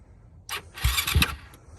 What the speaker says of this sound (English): Oh, clutch it and just hit the start button.